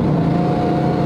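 A Bugatti Veyron set in sport mode gives off a steady, loud engine drone with a strong low hum, holding even through a short burst with no voices.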